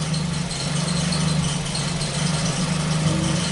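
A Ford Focus engine idles with a misfire, giving a steady, continuous low hum with a faint uneven rattle running throughout, close by and with no voices.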